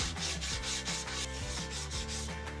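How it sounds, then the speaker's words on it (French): A sanding block wrapped in grit 80 sandpaper rubbed by hand over a cut wooden tabletop edge, a quiet rhythmic rasp of back-and-forth strokes repeating evenly several times. "Je ponce ma découpe avec la cale à poncer et du papier de verre grain 80."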